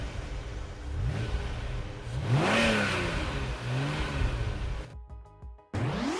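A car engine revs up and down through a couple of rising and falling surges over a broad roar, cutting out briefly near the end before noise resumes.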